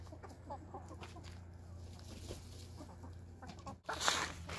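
Farmyard chickens cluck in a short series of soft calls, with a louder burst near the end, fairly close and alone with no talking.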